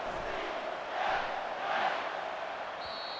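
A stadium crowd in a College Football 25 game with UCF Knights fans roars steadily at a distance, swelling twice into louder cheering waves before a tone enters near the end.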